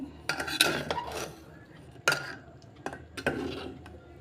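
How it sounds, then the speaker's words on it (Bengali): A pressure cooker of tarka dal is opened, giving a few sharp metallic clanks and clinks of the lid and utensils in short separate bursts, close and fairly loud, with quiet pauses between them. "এবার কুকারটা খুলছি খুলে দেখাচ্ছি কীরকম সিদ্ধ হয়েছে দেখুন"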